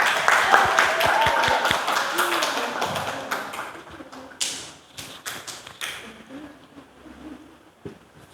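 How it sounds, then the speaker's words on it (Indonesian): A burst of hand clapping from a small group in a classroom in Indonesia, brisk and fairly loud, tapering off after a few seconds into scattered claps and murmuring. "kasih tepuk tangan"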